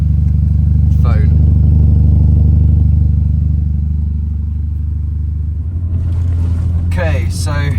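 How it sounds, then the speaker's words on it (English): Inside a Mini Cooper S R53 fitted with a custom exhaust, a loud steady low engine drone dips slightly and then swells again. A person talks over it at a few points. "out in the car now. So this is without any external microphones on"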